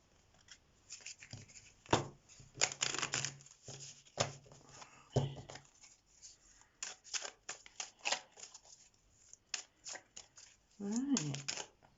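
A deck of tarot cards is shuffled close by in a quiet room, giving repeated dry riffling and slapping bursts in an uneven rhythm with brief pauses, and a short voice sound comes in near the end.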